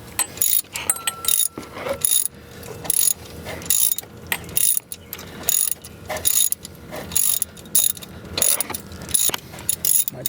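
Ratchet loosening a tensioner pulley bolt on a 2001 Mercedes-Benz W210 E320 wagon, a loud, close run of quick clicking bursts in a steady rhythm separated by short pauses.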